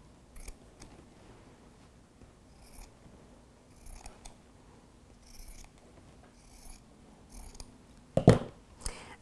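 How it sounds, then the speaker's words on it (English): Scissors snipping through fabric to clip corners and trim edges for a sewn pouch: a series of soft, short cuts spaced irregularly, ending in a louder close rustle and snip. "we clip the corners and we'll also trim the edges"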